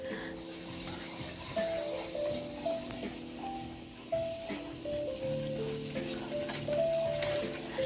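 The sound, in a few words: butter and flour cooking together into a roux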